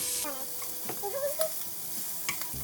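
Shrimp sear in a pan for one-pan yellow rice and shrimp, giving a steady, close, bright sizzle throughout, with a few soft utensil movements and a faint voice underneath.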